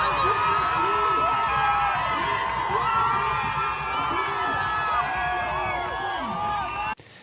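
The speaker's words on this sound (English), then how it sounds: "The crowd was cheering about that one." A crowd at a Montreal street protest cheers, whoops and shouts loudly and continuously, with excited voices mixing into a thick roar that cuts off abruptly near the end.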